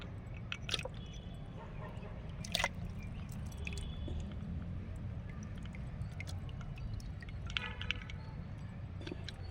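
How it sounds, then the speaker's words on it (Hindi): A lump of alum lifted out of a container of water, soft wet squishes and a few scattered drips close by, quiet and intermittent. "तो इसको हम फिटकरी को पानी से निकाल रही हूँ।"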